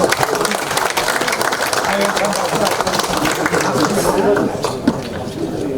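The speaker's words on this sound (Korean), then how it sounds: "가열찬 박수로 환영해 주시기 바랍니다" A packed Democratic Party meeting room breaks into steady, loud applause welcoming the party leader Lee Hae-chan, continuous clapping from many hands throughout with murmuring voices beneath.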